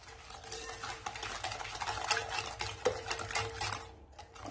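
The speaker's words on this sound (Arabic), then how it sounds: "صافي غادي نخلط" Basbousa batter of sugar and a pinch of salt being stirred in a bowl, a steady scraping and clinking of the utensil against the sides, close and continuous, with no talking.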